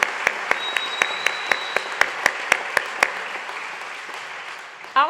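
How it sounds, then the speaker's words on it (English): A crowd at a law school summer commencement applauds the graduates, a soft continuous wash of clapping with a few sharp, evenly spaced louder claps standing out near the front before it fades. "for that we applaud you"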